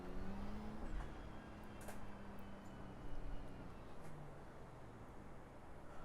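A GT3 race car engine in iRacing at Imola, droning steadily and loudly throughout as it brakes and shifts from sixth down to third gear, with no voices over it.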